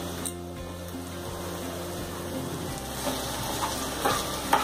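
Crushed potatoes being stirred into a frying tempering for potato palya, a steady sizzle with scraping stir strokes and a few louder clinks toward the end, close and with no talk.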